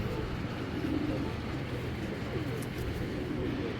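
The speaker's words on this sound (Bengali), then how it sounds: "দেখার মতো ভাই কবুতরগুলা।" Game pigeons coo softly under a steady, dense background hum, a low murmur that carries on evenly for a few seconds.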